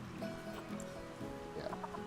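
Soft clucks from chickens in a zoo-management video game come in short repeated bursts, faint and close, with no talking.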